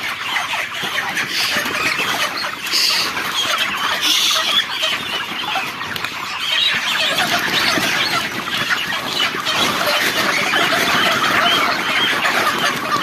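A dense flock of chickens being sold clucking and squawking continuously, loud and close, with no voices.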